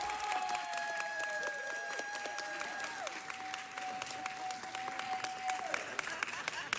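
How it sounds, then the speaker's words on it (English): A city council chamber audience gives a sustained round of applause for a dance theater company, dense steady clapping from many hands that carries through the whole stretch, with a faint tone in the background. "Please give them a round of applause."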